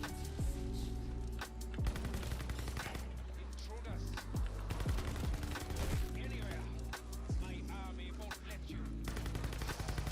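Rapid SMG gunfire in a video game, with dense bursts of shots and sharp transients running nearly continuously over a loud, busy game soundtrack.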